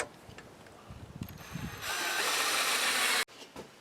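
Drill driving self-tapping screws into wood during water heater duct work: faint clicks and handling at first, then a sustained loud whir for over a second that stops abruptly, followed by quiet shuffling.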